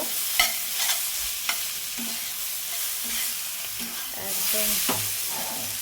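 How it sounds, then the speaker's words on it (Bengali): Rohu fish head and ash gourd fry steadily in a pan, a continuous sizzle with occasional sharp scrapes and clinks of a spatula stirring, close and fairly loud, with one brief spoken word. "তো দেখুন একদম লাল লাল ভাজা হয়ে গেছে"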